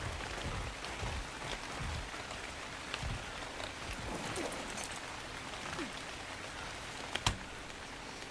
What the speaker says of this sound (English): it is looking pretty gloomy here in this rain